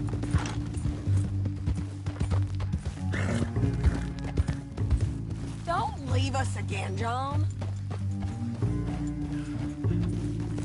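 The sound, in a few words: horse hooves clip-clopping, from a video game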